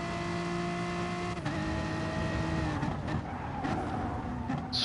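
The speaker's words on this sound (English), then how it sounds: "look how that Citroen is pulling away now" Citroen race car in a racing video game at the Nurburg GP circuit, engine holding a steady high drone as it pulls away, with a brief tire scrub partway through.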